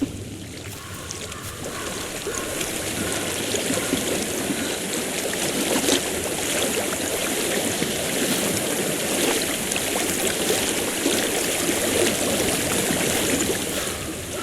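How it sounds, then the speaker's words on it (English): Steady flowing stream water in Hellblade: Senua's Sacrifice, a continuous broadband rush and trickle that holds evenly loud throughout with no talk over it. "I hear water."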